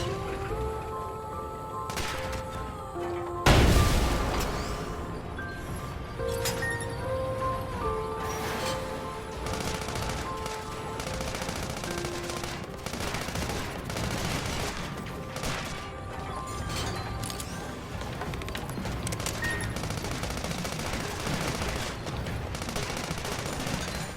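In the Sand Land video game, a tank gun fires one sharp, loud blast at a busted container, followed by steady game music and mechanical ambience.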